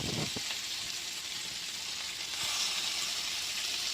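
Seasoned shrimp fry in a reused pan, a steady, close, bright sizzle holding at an even level throughout, swelling slightly louder toward the end with no talking.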